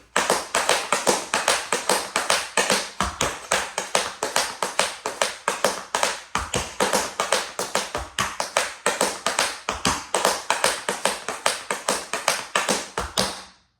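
Tap shoes strike a hard floor in a quick, steady stream of crisp clicks from flaps, heel drops and digs, loud and close, with occasional heavier accented beats and no voices.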